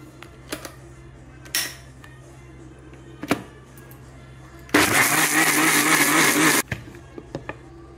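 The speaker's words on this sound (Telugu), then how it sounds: "మళ్ళీ మినపప్పుని ఇలా మిక్సీ చేసుకోవాలండి." A mixer grinder whirs loudly for about two seconds as it grinds soaked urad dal for idli batter, preceded and followed by scattered clicks and knocks of kitchen handling.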